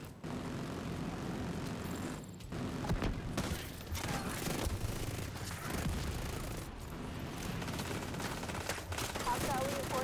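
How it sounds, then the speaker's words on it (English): Autocannon fire in a combat video game blends into a dense, continuous wall of gunfire and explosions, with aircraft engine drone beneath, loud throughout and with no clear pauses. "The autocannon seems to be firing blind."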